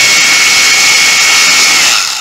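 A cordless 36V brushless four-function Hilti or Makita rotary hammer runs in chisel mode with no bit rotation. It gives off a loud, continuous, high-pitched droning whine that holds steady and eases off slightly at the end.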